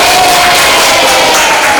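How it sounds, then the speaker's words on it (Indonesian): A classroom of students breaks into loud, continuous clapping mixed with crowd noise and a few cheering voices, filling the short moment at close range. "Tepuk tangan kita semuanya."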